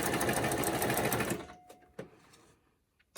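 A sewing machine runs a straight stitch through clear acetate, a rapid, even whirring that hums close by for over a second, then stops, leaving a few faint clicks and taps.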